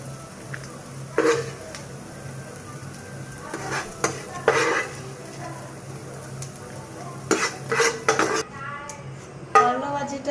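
Dried chillies frying in a pan alongside a finished bitter gourd fry, with a soft sizzle underneath and intermittent scrapes and clinks of a spatula against the pan, close and fairly quiet.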